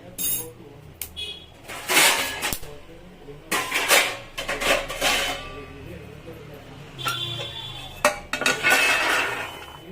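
Roasted almonds being tipped from a pan onto a plate in a home kitchen, with repeated bursts of clinking and scraping of metal and dishware, several distinct clusters over the span and quieter gaps between.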